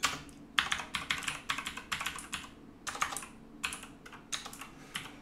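Typing on a computer keyboard during an OpenBSD 7.4 install, bursts of quick key clicks separated by brief pauses, close and fairly quiet, with no voices.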